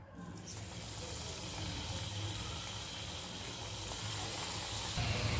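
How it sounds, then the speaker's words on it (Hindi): Chakali, an Indian spiral snack, frying in hot oil, giving a steady dense sizzle and bubbling hiss that holds even and loud throughout, with no talk. "तेल हमारा गर्म हुआ है। अब हम क्या करेंगे ये एक एक हमारी चकली इसके अंदर हम डाल देंगे।"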